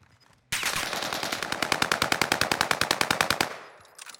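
A rapid burst of automatic gunfire in Call of Duty Warzone on Rebirth Island, loud and evenly paced shots for about three seconds after a quiet start, then stopping.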